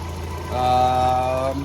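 A 1990 Mazda Miata engine idles steadily with the coolant system being bled, a low even hum that steps up slightly midway, near and continuous with no talk over it.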